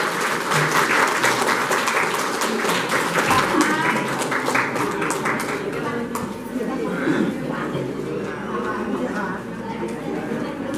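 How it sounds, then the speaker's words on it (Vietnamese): An audience at a ceremony announcing the Hague tribunal ruling applauds in dense, sustained clapping that starts strong and gradually thins, with murmured chatter mixed in. "Xin quý vị cho một tràng pháo tay sập lớn"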